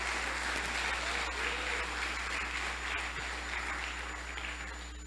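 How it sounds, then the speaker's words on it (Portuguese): Congregation applause at a church service, a dense steady wash of clapping over constant low hum, fading slightly toward the end. "Dá uma salva de palmas aí para o Senhor Jesus Cristo."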